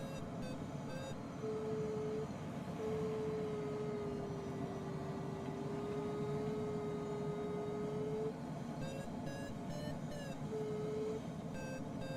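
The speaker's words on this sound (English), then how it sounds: "I hear an airplane." A light aircraft's steady engine drone in Microsoft Flight Simulator 2020 heard from a glider at altitude, a continuous hum with a sustained tone rising and falling gently for several seconds, set against constant wind-like noise.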